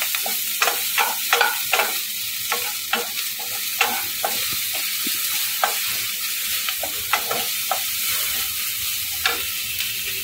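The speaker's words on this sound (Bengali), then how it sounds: "হালকা একটুখানি পেঁয়াজটা নেড়ে নেব" Chopped onion and green chillies sizzle in a hot pan under a constant frying hiss, while a utensil makes regular light stirring scrapes and taps near the microphone, with no voices.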